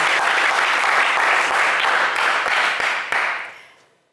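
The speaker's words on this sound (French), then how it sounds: "des applaudissements pour notre Marc" Game show studio audience claps in a dense burst of applause, steady for about three seconds before fading quickly to silence.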